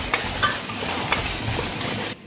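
Chopped onion sautés in an iCook pot with a steady, moderate sizzle, broken by a few light scraping stir sounds from a utensil.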